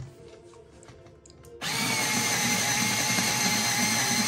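A Tenwin electric pencil sharpener starts up and grinds down a pencil: a quiet rattling handling sound, then the motor kicks in abruptly with a loud, steady whirring grind that continues to the end.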